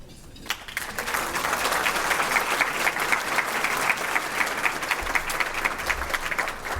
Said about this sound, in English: I'd like a round of applause for Gaetano Parks.